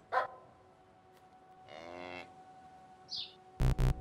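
A cow moos in The Witness puzzle game, one short low lowing call in the middle, with a faint brief high chirp before and after and two sharp clicks at the end, over a quiet background.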